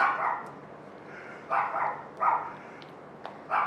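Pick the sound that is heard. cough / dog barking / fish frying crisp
dog barking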